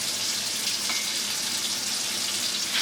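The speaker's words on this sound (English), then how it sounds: "use hot water to rinse this out a little bit and make sure the paper's stuck" Hot water pouring from a kettle to rinse a paper coffee filter in a home kitchen, a steady close splashing hiss running without pause, no voices.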